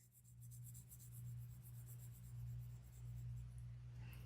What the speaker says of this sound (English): my pencil is moving quickly up and down, but it's moving slowly across that space.